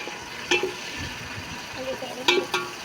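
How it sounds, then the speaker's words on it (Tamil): Onions sautéing in a pot over a wood-fired stove for chicken biryani, a low frying sizzle with a few sharp scraping clinks of a spoon against the pot, close by. "வெங்காயம் போட்டு நல்லா வதக்கிக்கலாம்"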